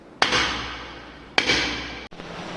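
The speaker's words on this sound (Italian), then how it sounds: "adesso possiamo agire col martello" Hammer blows against a car driveshaft universal joint during a cross-joint replacement done without a workshop stand: two sharp metallic strikes about a second apart, each ringing out and fading, followed by a softer dull knock.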